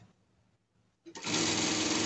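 A sewing machine stitches together ribbing seams on a costume garment, starting abruptly after a second of near-silence and then running loud, steady and close.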